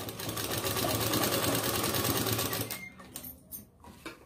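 Sewing machine stitching a collar onto a ladies' kameez, a fast continuous mechanical chatter heard close and steady for most of the stretch before stopping, followed by a few faint handling clicks.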